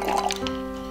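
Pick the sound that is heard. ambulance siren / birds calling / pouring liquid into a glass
pouring liquid into a glass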